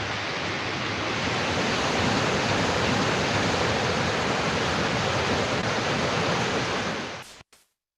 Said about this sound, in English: let's hear from the river and waterfall itself